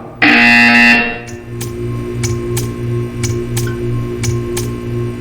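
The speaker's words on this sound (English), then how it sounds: "When you hear the buzzer, stare at the art." A loud, harsh electronic buzzer in the video game Portal 2 blares for about a second, then gives way to a steady ticking rhythm over a low droning hum.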